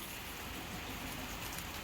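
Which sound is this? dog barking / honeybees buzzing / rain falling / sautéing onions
rain falling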